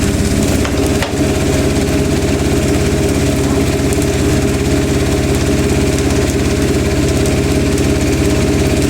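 A Zanussi TJS1397W Jetsystem Excel 1250 top-loading washing machine shakes hard during its spin cycle, giving a loud, constant mechanical drone and rattle. A brief knock comes near the start, and the vibration then stays steady and unbroken to the end.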